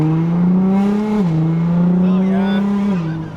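A Nissan GT-R running on E85 fuel revs hard on a dyno, its engine note a loud, sustained drone that steps in pitch as it climbs through gears, close up and steady throughout.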